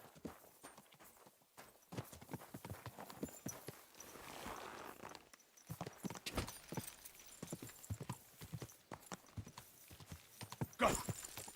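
Horse hooves in the video game Kingdom Come Deliverance 2, a fast, steady clip-clop of galloping that runs throughout at moderate distance, with no talk.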